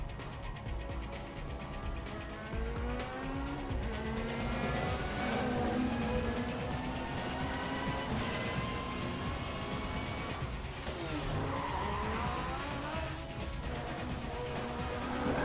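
Car chase in the Need for Speed Most Wanted video game, with engines revving steadily and tires squealing and skidding throughout, loud and continuous with no talk.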